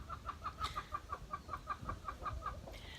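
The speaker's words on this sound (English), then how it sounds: "My chickens are fairly loud creatures." A hen clucks in a quick, even series of about a dozen soft calls, moderately close, with faint barnyard background near a chicken coop.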